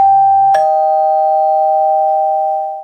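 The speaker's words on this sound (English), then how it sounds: "the doorbell?" Doorbell giving a two-tone chime, a lower note followed by a higher ringing tone that sustains and slowly fades, clear and alone.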